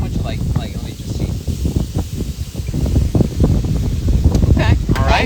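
Wind gusts across an outdoor cooking setup where shrimp are frying in oil, a steady, loud buffeting roar with rustling bursts hitting the microphone throughout and no talk.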